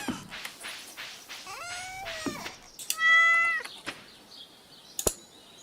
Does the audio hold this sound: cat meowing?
yes